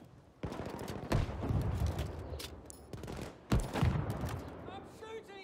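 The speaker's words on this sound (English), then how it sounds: "I'm shooting here!" Battlefield V gameplay with rapid bursts of automatic gunfire and sharp individual shots, loud and close with sudden cracks, over a busy battlefield din; a voice shouts briefly near the end.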